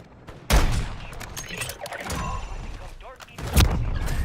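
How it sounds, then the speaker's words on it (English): Sniper gunfire in a zombie video game, with two sharp, loud booming shots about three seconds apart and other game noise and a voice talking between them. "That stupid zombie had to snipe me."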